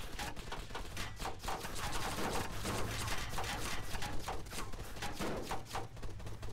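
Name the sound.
gunfire hitting an MRAP MaxxPro vehicle in the video game Arma 3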